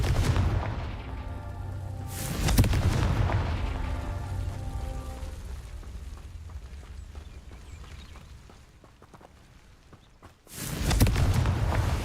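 Confringo blasting curse explosions in the Hogwarts Legacy video game: two loud, booming blasts several seconds apart, each with a rumbling decay, separated by a quieter stretch of ambient game sound.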